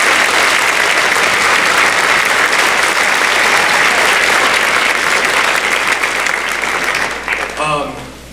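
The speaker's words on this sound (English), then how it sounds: "A big round of applause for those people." An audience at a 5th and 6th grade school holiday concert claps in loud, dense, sustained applause that fades out at the end as a voice begins speaking.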